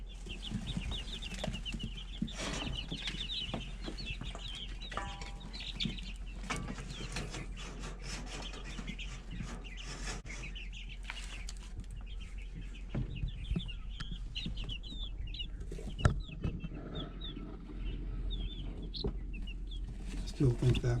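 Young Cream Legbar chickens, about three weeks old, cluck and cheep softly and continuously nearby, with brief speech over the flock.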